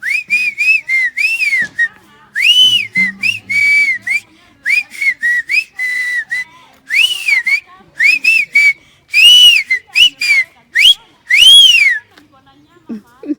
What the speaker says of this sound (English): Whistling is to emit a clear, high-pitched sound by forcing breath through a small hole between one's lips or teeth